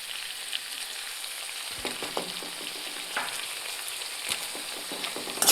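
Lemon pieces for a date and lemon pickle frying in a pan, a steady close hiss of oil with repeated scraping stir strokes through the middle, no talking.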